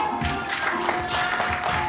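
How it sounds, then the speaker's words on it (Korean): Wedding guests at a traditional Korean wedding ceremony applaud in a dense, steady burst of clapping that fills the whole moment at close range, with a faint steady tone running underneath. "뜨거운 박수 부탁드립니다."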